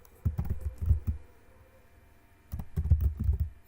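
Quick close bursts of keystrokes on a computer keyboard come in two flurries separated by a short pause, while a record is being edited in a web app.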